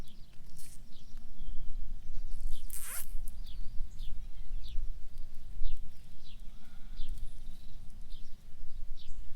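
Zip ties are pulled tight repeatedly to fasten cattle panels for a garden arch tunnel and tomato panels outdoors, a series of quick ratcheting zips with faint animal calls in the background.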